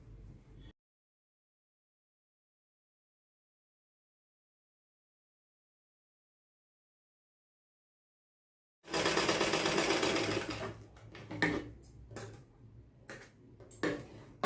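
A sewing machine stitches dots on fabric in one brief, loud burst of rapid whirring after a long silence, followed by a few scattered clicks and ticks.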